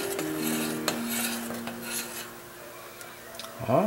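A utensil scrapes and clinks against a pan while an escargot dish is stirred, with short scraping strokes and a few sharper knocks under faint background tones.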